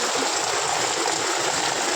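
Rainwater runs off a road during a downpour in a steady, close rushing wash that stays even throughout with no pauses.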